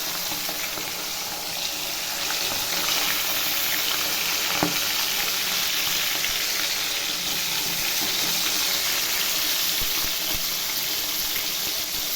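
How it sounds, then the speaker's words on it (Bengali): Large fish pieces coated in salt and turmeric fry in hot oil in a kadai, a loud, dense, continuous sizzle that holds steady throughout with occasional faint clinks. "এই দেখুন কড়াই তখন চাপানো ছিল, তেল গরম হয়ে গেছে। এইবার মাছগুলো দিয়ে দেবো"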